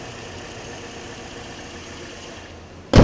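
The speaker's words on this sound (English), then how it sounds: "Engine compartment's real clean, sounds real good." A Cruze car engine idles with a steady low rumble throughout, ending with a sudden loud burst of noise.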